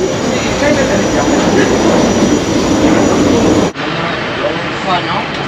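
Airbus A350-900 jet engines humming steadily before takeoff, a broad continuous cabin roar with a brief dip partway through, while people talk nearby.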